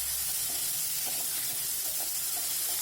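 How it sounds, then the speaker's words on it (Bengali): Okra and potatoes fry lightly in a pan, giving a steady, soft sizzling hiss that stays even throughout. "তো ভেন্ডি আর আলুটাকে আমি বেশ হালকা করে ভেজে নিচ্ছি এখানে"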